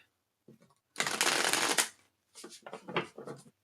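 Tarot cards riffle and shuffle close up: a short flutter, a longer riffle, then several quick bursts of shuffling, with no voices.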